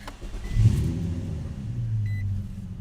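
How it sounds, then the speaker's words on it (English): A car engine starts and revs at night inside an empty parking structure, a loud low rumble that surges early, then settles into a steady idle hum with a brief beep partway through. "I'm gonna turn on my car."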